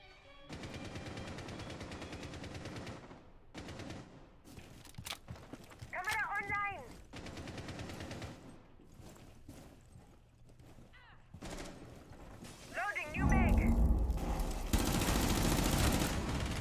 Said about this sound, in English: I just shot randomly because it surprised the hell out of me